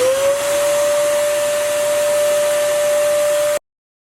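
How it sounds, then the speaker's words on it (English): A vacuum cleaner runs over a mattress surface with a loud, steady whine and airy hiss, close to the microphone, then cuts off abruptly. "Now I'm going to vacuum the surface and see if there's any stains left after that."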